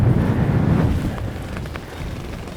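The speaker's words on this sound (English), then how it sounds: "we're right in the wind" Strong coastal wind in A Coruña, Spain buffets close by in a loud, rough rush that eases slightly over a couple of seconds, with no voices.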